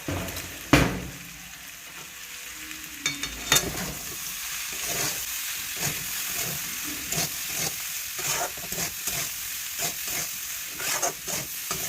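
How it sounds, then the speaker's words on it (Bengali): Winter vegetables frying in a pan hiss and sizzle steadily, with sharp utensil clinks and scrapes at irregular intervals. "হয়ে গেছে মোটামুটি ভাজাটা"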